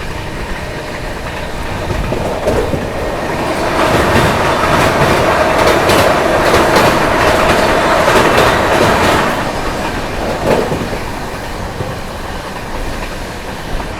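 A Goa Sampark Kranti Express passenger train runs steadily on Indian rails, a loud continuous rumble with clickety-clack wheel rhythm that swells in the middle and eases toward the end, heard from on board.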